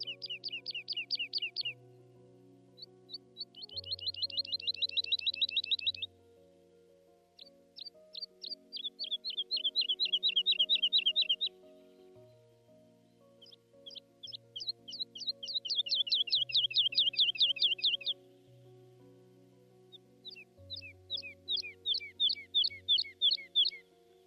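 Skylark singing high above, long bursts of rapid trilling notes pouring out in near-continuous phrases with brief pauses, clear and fairly close, alone without talk.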